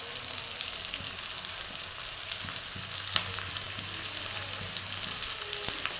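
Chicken curry fries with masala spices added, a quiet steady sizzle carrying light scrapes and taps of a spoon in the pan, fairly faint and close with no talking.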